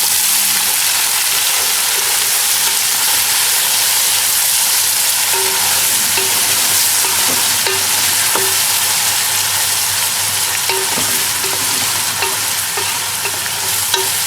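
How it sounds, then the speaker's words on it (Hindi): Fresh fenugreek leaves being stirred into frying keema, a loud continuous sizzle and hiss with faint scraping taps of the spoon against the pan, no voices. "सबसे पहले हम इसे ऐड कर देंगे। तो ज़रा मिक्स कर लेते हैं।"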